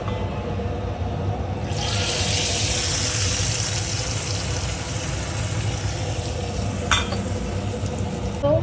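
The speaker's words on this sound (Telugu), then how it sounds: "సో దీన్ని కూడా తాలింపు వేసుకోవాలి పప్పులోకి" A hot tempering of curry leaves, chillies and asafoetida is poured into spinach dal. A sudden loud sizzle bursts in and then hisses steadily up close, with a brief clatter near the end and no talking.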